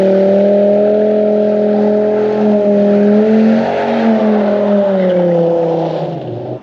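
A 1997 Dodge Viper GTS with under 13,000 miles, its engine droning loud and close at a steady pitch, rising slightly mid-way before easing off and cutting out at the end.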